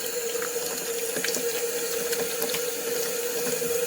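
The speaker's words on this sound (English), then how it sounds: "I just allow the tap water to run" Tap water running steadily from a kitchen faucet, a constant close rushing splash with a faint tonal hum, unbroken from start to finish.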